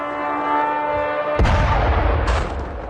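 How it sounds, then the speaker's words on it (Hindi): An X-101 cruise missile strike in Ternopil: a single heavy blast suddenly breaks in over a steady background hum, then fades into a long, loud rumbling roar with a later burst of hiss. "एक के बाद एक 7 मिसाइलों से अटैक, तेर्नोपिल से आई एक और तस्वीर, साथ ही X-101 क्रूज मिसाइल से विध्वंसक तबाही की ही ये तस्वीर है।"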